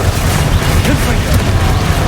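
Hogwarts Legacy Confringo fire spell exploding in combat, a sustained rumbling blast with crackling bursts throughout, loud and dense, with a voice mixed in partway through.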